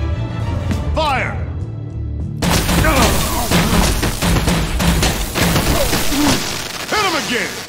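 Gunfire and crashing impacts in a Batman video game, a dense run of loud bursts and booms with voices shouting over the action.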